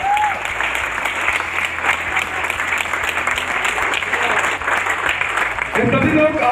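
Audience applauding at a business coaching seminar in India, steady loud clapping from many hands for several seconds, ending as a voice and music begin at the close.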